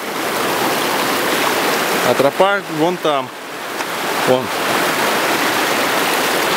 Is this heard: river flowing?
yes